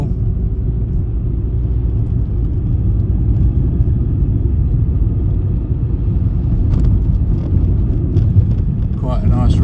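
A VW Golf MK3 cruising in modern traffic, with a steady low engine and road rumble inside the car and wind noise throughout, plus a few faint sharper sounds near the end.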